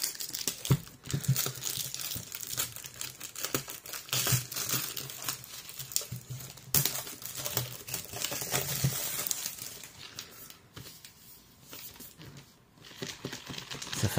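Packaging of a Welock PCB45 smart lock being unboxed crinkles and rustles in close, irregular bursts of crumpling plastic and cardboard handling over about fourteen seconds, with no talk.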